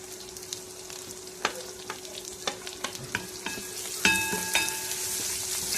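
Chopped onion and green chillies sautéing in hot oil, a soft continuous sizzle with a rhythm of spoon clinks and scrapes on the pan, then a brighter metallic ringing clatter near the end, close with no talk.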